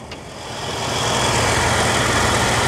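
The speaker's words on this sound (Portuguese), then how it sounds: "Olha o ronco desse motor." The gasoline V6 engine of a 2001 Toyota SW4 starts with a brief click, then settles into a steady, loud idle with a low rumbling drone.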